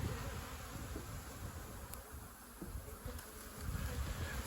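Honey bees from a colony opened for its first spring hive inspection hum in a steady, dense drone that fills the whole stretch, close by with no voices over it.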